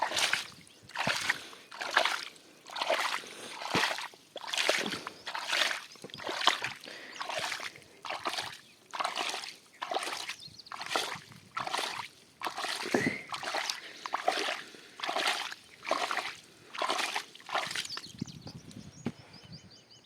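Water is poured out of a container in a series of repeated splashing gushes, roughly one every second or so for about eighteen seconds, fairly close and moderately loud, with no clear talk.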